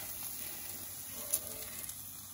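An egg fries sunny side up inside a bell pepper ring, giving a faint, even hiss of oil with a couple of tiny pops, quiet and close.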